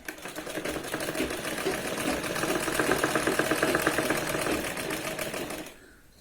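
A sewing machine runs in one steady, rapid burst of rhythmic stitching on a Punjabi top, holding a loud even chatter for several seconds before stopping abruptly.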